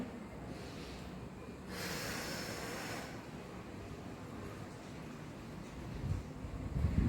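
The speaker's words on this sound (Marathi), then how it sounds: "परत घ्या मोठा श्वास, तोंडाने भुंकर सोडून द्यायची" During a seated belly-fat exercise, a person forcefully blows a breath out through the mouth, a single close airy rush lasting over a second, followed later by softer breathing and rustling.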